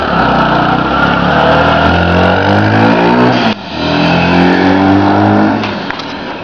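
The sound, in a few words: turbo motorcycle engine revving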